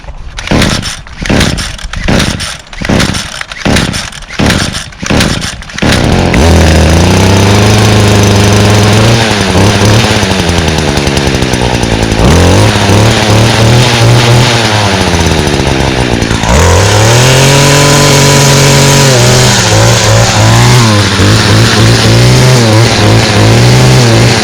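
A small two-stroke garden power tool engine, fogged during winterizing, first cranked by several pulls of the starter, then firing up and running loud and close, revving up and down repeatedly.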